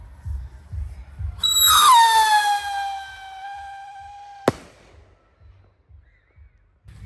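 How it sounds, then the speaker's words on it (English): A Howling Commando firework rocket launches with a loud rising whistle that holds a steady shriek for about three seconds, then ends in a sharp crack, with faint background noise before and after. "Another Howling Commando."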